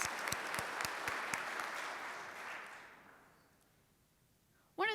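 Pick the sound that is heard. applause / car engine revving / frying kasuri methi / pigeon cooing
applause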